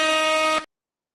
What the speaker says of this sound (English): Where's my air horn?